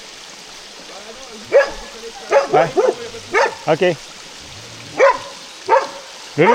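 Dogs bark in short separate bursts, fairly close and loud, with quiet gaps between them and brief speech in French.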